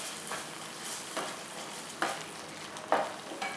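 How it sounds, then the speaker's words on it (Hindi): Ground spices for a kofta curry masala fry in a pan, a quiet steady sizzle broken by periodic scraping strokes of a stirring spoon roughly every second. "आपने इसे मीडियम फ्लेम पे 5 से 7 मिनट तक भूनना है, जब तक ये दानेदार नहीं हो जाता"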